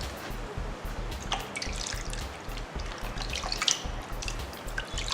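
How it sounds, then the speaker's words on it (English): Water splashes and drips as a homemade avocado and egg face mask is gently rinsed off, with close, irregular trickles and patters over a steady running stream. "You wash it off gently with water."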